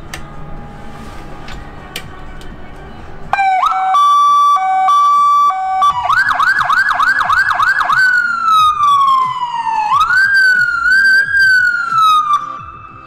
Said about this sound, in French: c'est des sirènes dites américaines